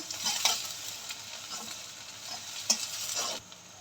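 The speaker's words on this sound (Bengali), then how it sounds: "একটু হালকা করে ভেজে নিব আবার পেঁয়াজটা তাড়াতাড়ি যাতে নরম হয়ে যায় সেজন্য লবণ দিয়ে দিলাম" Onions fry in oil with salt in a pan, giving a soft, steady sizzle close by, broken by a few light spatula scrapes and stirring strokes, with no voices.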